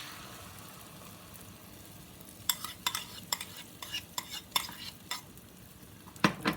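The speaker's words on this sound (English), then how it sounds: "So I'm going to spread out that egg into the pan." Beaten egg mixed with blended pole beans and collard greens spread across a hot pan, a steady low sizzle broken by a run of sharp utensil scrapes and taps, close and fairly quiet.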